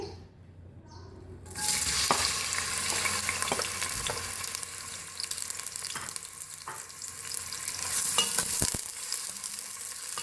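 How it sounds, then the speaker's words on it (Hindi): Onions dropped into hot desi ghee-style oil for chicken shorba: after a quiet start a loud sizzle erupts and continues steadily, punctuated by occasional stirring clicks and scrapes in the pan. "सबसे पहले देश की भी पौना कप मैंने ऑयल शामिल किया, वो गर्म हो चुके हैं। अब उसमें हम अपने प्याज शामिल करेंगे।"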